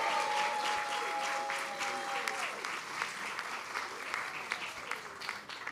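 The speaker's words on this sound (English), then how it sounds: "Let's celebrate teachers and give them a big round of applause." Steady applause for teachers from a crowd at a public library grand opening ceremony, sustained clapping at moderate distance that slowly thins out.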